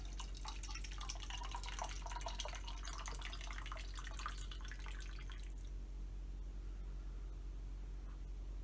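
Water trickling from the tap of a camping water container, a faint thin splashing stream for about five seconds that then stops, leaving quiet room hum.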